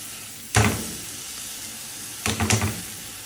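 Rice sautéing in butter in a pan, with two bursts of loud sizzling as the grains are stirred, separated by a quieter hiss.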